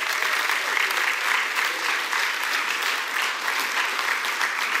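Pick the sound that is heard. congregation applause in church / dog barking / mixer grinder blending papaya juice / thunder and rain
congregation applause in church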